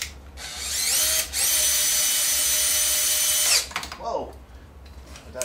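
A power tool tightens APR intercooler bolts on a 2016 Volkswagen Golf R MK7, its loud, close, high whine running in two long bursts, then cutting off into light clatter and handling noise.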